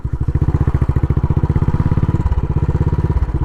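A Royal Enfield Bullet Trials 500 single-cylinder engine thumps loudly and up close as the motorcycle climbs a hill, a fast, even beat that shifts slightly midway without a break and with no talking.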